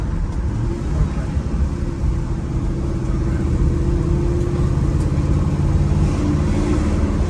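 A 1963 Chevrolet Impala SS with numbers-matching engine idles steadily, a low, even rumble with a faint mechanical whir like mild gear drive, continuous and close throughout.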